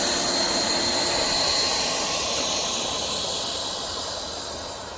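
A model aircraft's electric motor runs under throttle, a loud, steady, high whine and hiss that gradually fades a little toward the end, with no talking.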